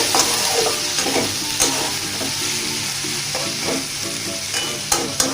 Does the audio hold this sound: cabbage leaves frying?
yes